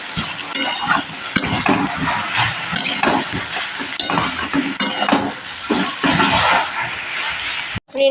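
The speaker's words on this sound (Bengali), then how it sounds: "এবার আমি ভালো করে মশলা দিয়ে তরকারিটাকে কষিয়ে নিচ্ছি।" Vegetable curry being stirred and sautéed with spices in a pan, steady scraping and stirring of a spoon against the metal over a continuous close sizzle, loud and busy throughout with no talk.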